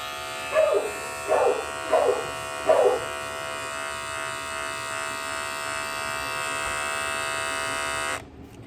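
An electric dog grooming clipper, a size 7 blade just oiled, buzzes steadily with a rough, raspy drone, joined early by a few brief rhythmic bursts, then switches off abruptly near the end.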